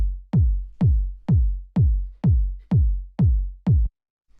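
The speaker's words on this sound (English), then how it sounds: "The first sound we have here is the kick," Punchy, deep kick drum from a minimal house loop: eight evenly spaced booming hits with short decaying tails, loud and upfront, playing alone before stopping.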